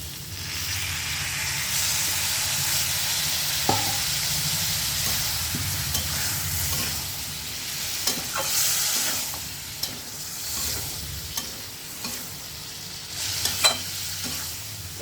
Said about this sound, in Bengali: এবার সমস্ত উপকরণ আমি একসঙ্গে মিশিয়ে আবার ভালো করে কষিয়ে নিচ্ছি।